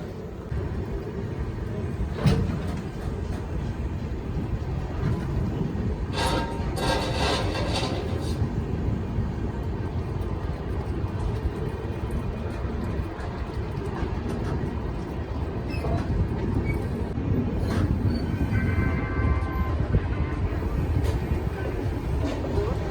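An Indian Railways express, the 14119 Kathgodam Dehradun Express, pulls out of Laksar station with a steady, loud rumble of wheels and coaches and occasional higher clanks and squeals, continuous throughout.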